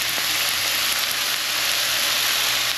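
Spinach and other vegetables sizzle steadily in a hot pan on the stove, a constant close crackling hiss with no talk over it.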